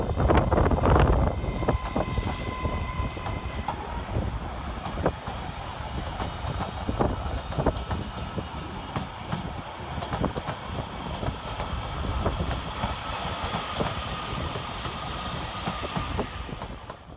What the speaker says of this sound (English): the final train calling out oh so very slowly is 331108, working the 1212 Northern service to Bradford Forster Square